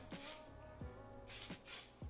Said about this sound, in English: So I'll usually just spray that kind of like in the front